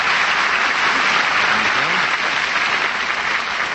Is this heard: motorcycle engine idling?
no